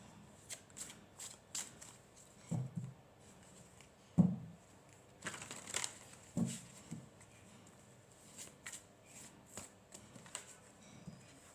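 Tarot cards drawn and shuffled from a deck, giving soft papery slides and flicks in scattered short bursts, close and quiet, with no talking.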